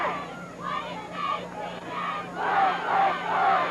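The crowd at a 1985 high school football game between Deerfield and Antioch cheers and chants in rhythmic swelling waves, building louder toward the end.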